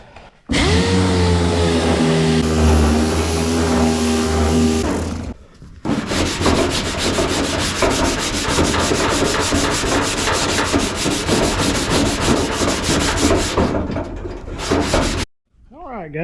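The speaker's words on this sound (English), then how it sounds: "Let's give her a quick DA-ing." A dual action sander works over a car body panel after hammer-and-dolly dent repair: a loud, steady whirring grind, a brief break, then a long continuous rough sanding hiss, close up, ending abruptly.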